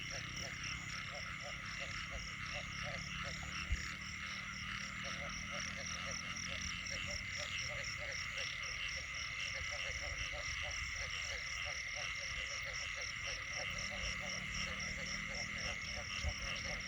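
Frogs croak in a steady, pulsing chorus on a rainy night in flooded fields, with dense rhythmic calls layered over the constant hiss of falling rain, fairly distant and continuous throughout.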